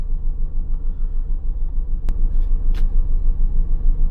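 Steady low rumble of cars idling and creeping in a road traffic jam, a continuous engine drone heard close up with faint clicks, no talking.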